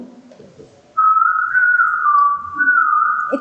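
A person whistles a sustained, wavering tune close by in a classroom setting, starting after a short stretch of faint background noise and continuing steadily to the end.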